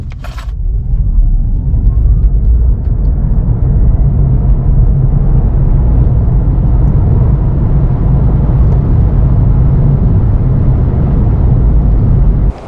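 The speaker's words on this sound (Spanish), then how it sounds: "Pisamos freno y acelerador a fondo y vais a ver que el 0 a 50 es todavía más impresionante que el 0 a 100." A Honda e electric car accelerates hard from a standstill in Sport mode, producing a loud, steady whirring rumble that rises in pitch over about twelve seconds, with a sharp click at the start and end.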